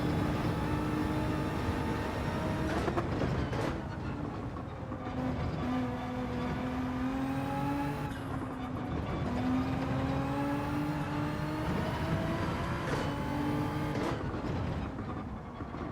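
Race car engines in Gran Turismo 7 chasing a Supra, loud sustained engine drone with rising and falling pitch as gears shift and revs climb, several cars overlapping throughout.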